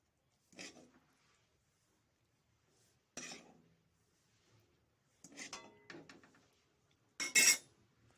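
Cooked chicken feet being lifted out of a pot: four separate bursts of metal utensil scraping and clinking against cookware, each short and close, with quiet pauses between and the last clink the sharpest.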